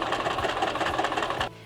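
Sewing machine stitching a seam around fabric pocket pieces, a steady fast mechanical whir with rhythmic needle knocking, close and loud, then stopping abruptly near the end.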